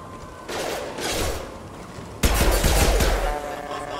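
Gunfire from the Mass Effect 2 video game: bursts of rapid shots crackle in two stretches, a moderate volley early on, then a louder, denser barrage with heavy low thuds that keeps going to the end.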